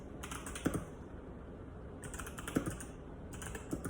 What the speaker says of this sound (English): I'm kind of nervous typing.